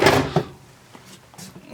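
A small drawer in the hallway of a 2003 Fleetwood Southwind 32VS Class A gas motorhome slides and bumps, a close wooden knock followed by a few lighter thuds.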